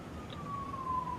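A steady siren tone from the video game Mane City, a single sustained wail drifting slightly lower over about a second, moderately loud above a low background rumble, with no talk.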